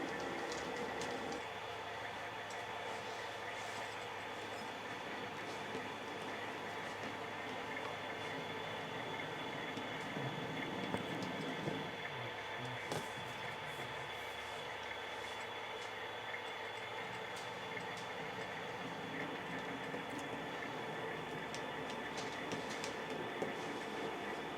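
A model railroad yard where a crew breaks up a train, with faint, continuous low rolling and mechanical hum from the small train and cars, punctuated by a few soft clicks and clunks, quiet throughout.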